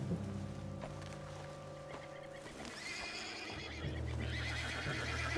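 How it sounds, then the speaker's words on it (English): A spooked horse whinnies loudly amid a busy outdoor scene with steady rumbling background noise; a sustained neigh runs through the first half, followed by further shrill calls and hoof clatter later on. "What's got this horse spooked, huh?"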